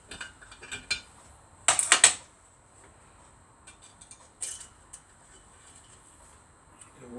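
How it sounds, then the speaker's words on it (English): Metal clicks and taps from the inlet rocker of a BSA B33 motorcycle engine as it is lifted out, a few light ticks followed by a brief cluster of sharper rattles, close and quiet with no talk. "that's the inlet rocker coming out there. We'll take that out. And we lift it out and catch the spring."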